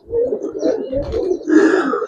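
Giribaz pigeons coo in a low, throaty, repeated rhythm close by, with a brighter burst near the end and no talking.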